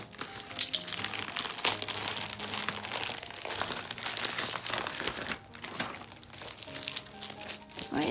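Plastic wrapping on a parcel of K-pop albums crinkles and crumples up close as it is opened, with irregular rustles and a few sharp tearing snaps. There is no speech.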